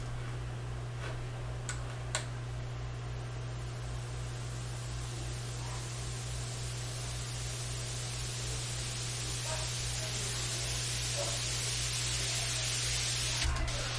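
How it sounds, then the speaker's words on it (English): A steady hiss of white noise uplifter sample gradually swells and brightens, with faint scattered ticks over a constant low hum, in a house music track. "Got some white noise. I love this sample."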